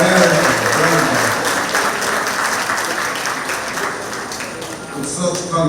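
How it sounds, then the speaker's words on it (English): Loud audience applause at a community centre meeting in Pleasantville, dense sustained clapping that gradually fades slightly before swelling again, with a voice speaking over it at times. "Let's give another round of applause."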